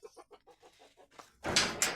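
A hen gives a quick run of soft, evenly spaced clucks in a night coop, followed by a louder rustling scuffle near the end.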